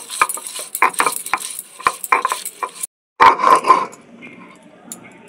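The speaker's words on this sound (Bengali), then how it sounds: "কুচিয়ে রাখা পেঁয়াজগুলো আমি বেটে নিচ্ছি।" Chopped onions being ground into a paste on a grinding stone, heard as uneven scraping and knocking strokes that are loud and close, with a brief pause partway through.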